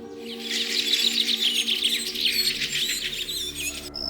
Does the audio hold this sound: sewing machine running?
no